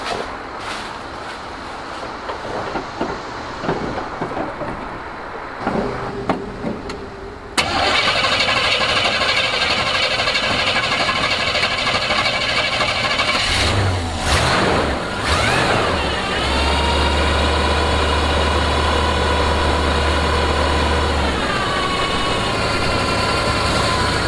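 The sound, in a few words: C30 engine starting and idling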